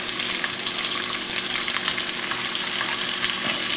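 Sliced beef brisket sears in a pot with a loud, continuous sizzle and crackle of hot fat, close up with no talking.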